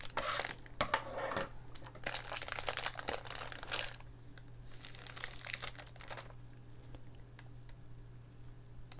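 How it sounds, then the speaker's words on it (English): Crinkling chocolate bar wrapper cut with scissors, crisp snipping and rustling up close, busy for several seconds then fading to quiet handling; no talking. "I think I'm gonna need scissors to open this."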